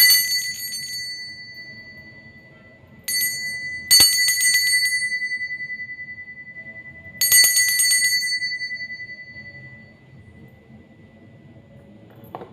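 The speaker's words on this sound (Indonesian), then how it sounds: "Kita akan memulai dengan ditandai lonceng berbunyi" A small bell rings out clearly several times, each strike bright and ringing before slowly fading into quiet.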